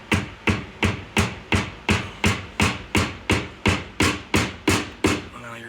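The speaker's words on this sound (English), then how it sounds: "I'm going to grab my mallet, and you'll see." Mallet hammering a bushing into the rear spring of an EZGO golf cart: thirteen sharp, evenly spaced metallic blows about two per second, loud and close, with no talk.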